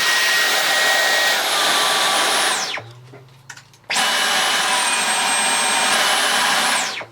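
A Dyson V11 Absolute cordless vacuum cleaner runs loud with a high whine, cuts off for about a second, then starts up again and runs steadily before shutting off.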